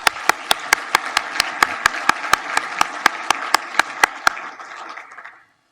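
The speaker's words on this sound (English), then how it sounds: "Let's give our sponsors a round of applause." An audience claps for event sponsors at a village State of the Village gathering, a sustained wash of applause with regular sharp accents that runs for about five seconds before cutting off abruptly.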